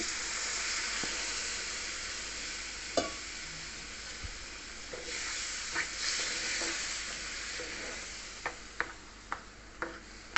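Moringa leaf patholi fries in oil with a soft, steady sizzle. Scattered clicks and scrapes of stirring come through, growing more frequent toward the end, close and fairly quiet with no talk.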